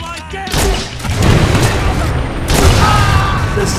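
Grenade blasts in the Watch Dogs 2 video game, heavy booming bursts rolling one after another amid gunfire-like cracks, loud and close.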